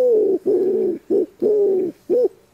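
A person imitates a wood pigeon's call, giving five hooting coos in a soft rhythmic phrase of longer and shorter notes, close and clear with no other sounds.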